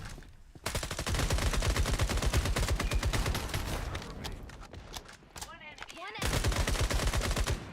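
Rapid automatic gunfire rattles in a video game in dense bursts, loud and close, with a brief pause before another burst resumes, while a person talks during the firing.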